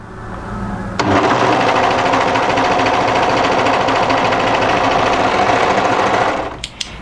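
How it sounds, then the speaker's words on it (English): An overlocker serges the edge of striped knit fabric for a mid-length wrap cardigan, starting abruptly and running at a loud, steady, rapid whir for several seconds before stopping with a brief click. "So what we're going to do is overlock that edge there."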